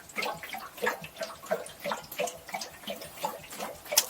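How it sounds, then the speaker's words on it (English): A camper's hot water tank glugs as it drains, giving irregular gurgling, bubbling pulses of water, close and moderately loud, repeating roughly every half second with no talk. "we can hear the hot water tank glugging away here as it drains"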